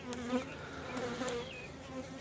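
Dense, steady buzzing of many honey bees at an open hive during an inspection, close and continuous with no voices.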